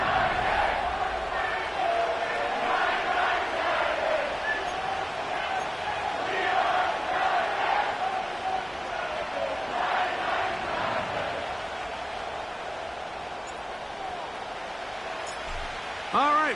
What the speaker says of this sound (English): The crowd is definitely ready.